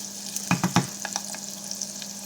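Pork roast browns and sizzles in a pan while being stirred, with a steady quiet frying hiss and a few soft scraping clicks of the utensil.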